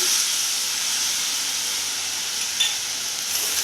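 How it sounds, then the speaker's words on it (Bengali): Soy sauce poured into a hot pan for soya chow rolls gives a loud, steady hiss and sizzle that holds evenly throughout, with one small spitting burst near the end. "এবার আমি এটা সোয়া সসটা দিয়ে দিচ্ছি"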